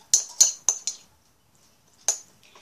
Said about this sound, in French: Donc moi je rajoute une petite cuillère à café d'eau, voilà, et je retouille